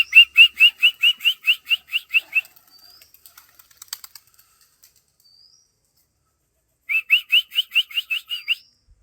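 A man whistles to call his pigeons with a rapid, piercing trill of about a dozen sharp, evenly spaced notes. After a pause with faint clicks, a second matching burst follows, loud and close.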